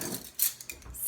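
Silverware is set down on a holiday table, with a few light metallic clinks and taps of cutlery against dishes, close and quick, with no talking.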